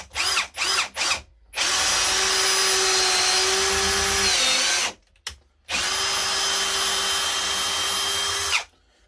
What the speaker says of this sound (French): C'est une machine qui envoie